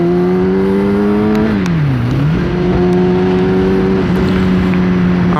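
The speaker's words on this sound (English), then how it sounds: "So it idles perfectly normal in first gear, but not in neutral." Kawasaki ZX10-R sport motorcycle engine running steadily at a loud, close idle, with a brief dip in pitch around midway before settling back to an even drone; no voices.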